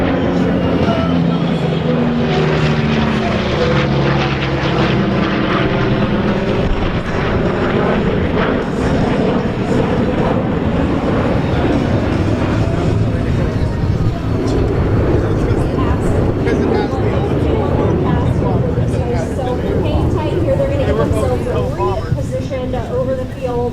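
A Boeing B-29 Superfortress makes a straight and level airshow pass, its piston engines droning steadily throughout while an announcer talks over it.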